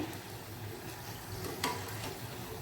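Chana koliwada frying in hot oil: a soft, continuous bubbling sizzle at low level, with a faint scrape or clink partway through.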